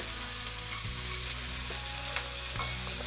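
Finely chopped onion fries in hot oil with a loud, steady, dense sizzle, punctuated by a couple of faint utensil taps, with no voices.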